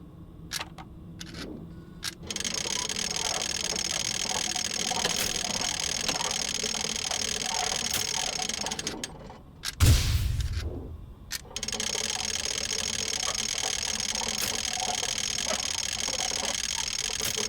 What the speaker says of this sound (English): Need to crank super fast.